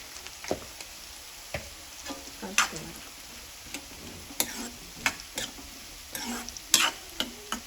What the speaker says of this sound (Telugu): మూత తీసి ఒక్కసారి బీరకాయ కూరని కలుపుకోవాలండి